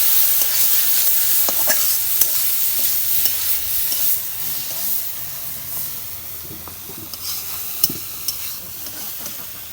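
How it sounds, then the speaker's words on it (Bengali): Small river fish such as puti, chela and tengra sizzle and fry in a pan with eggplant pieces, a steady loud hiss broken by stirring and scraping clicks, with no talking. "কষিয়ে নিতেছি।"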